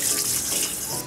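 Water runs steadily from a kitchen tap into a sink while something is scrubbed clean, a close, continuous broadband splashing rush with no talk.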